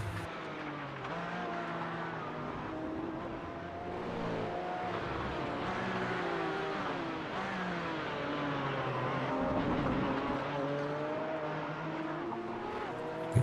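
GT4 race cars in the iRacing game at VIR, driving a wet track with spray, roar continuously as several engines rev and shift up the long straights, a steady layered drone of accelerating cars.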